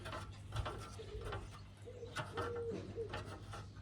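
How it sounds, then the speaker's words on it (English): A wood pigeon coos repeatedly outdoors on a morning, its soft rounded calls fairly faint behind a steady background hum while a bladed lawnmower cartridge is being cleaned nearby. "I've got the wood pigeon keeping me company here this morning."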